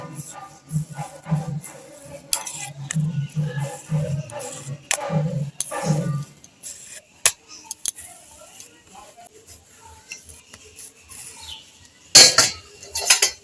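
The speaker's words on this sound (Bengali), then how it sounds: "এবার আমি বেলে নেব" Semolina sweet dough being rolled with a ghee-greased rolling pin on a wooden board: a close series of rhythmic soft thumps and scrapes, then scattered light knocks and clinks.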